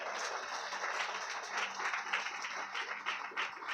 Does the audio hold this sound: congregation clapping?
yes